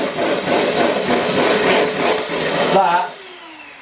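Cream being whisked for a cheesecake toward soft peaks, a steady mechanical whirring that runs close and continuous for nearly three seconds, then cuts out abruptly; a voice speaks briefly over it.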